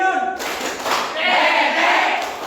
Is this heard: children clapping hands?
yes